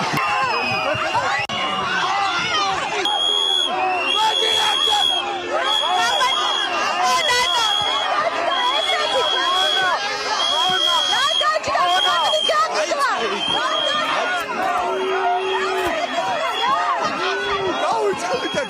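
Protesters shout and chant outside the Babilo restaurant in Georgia: a dense, continuous crowd roar of many overlapping voices with occasional louder cries, steady and close throughout.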